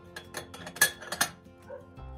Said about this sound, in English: pour the water back into a pot.